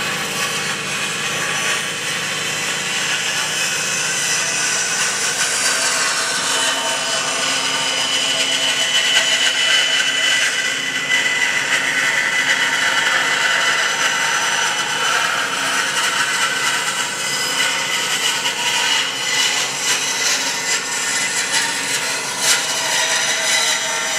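Band saw blade cutting a curved line through wood in a workshop, a steady, continuous bright whirring rasp that holds at an even loudness throughout, with no voices.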